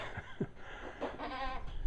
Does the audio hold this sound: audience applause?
no